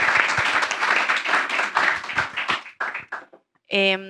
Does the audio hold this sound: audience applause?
yes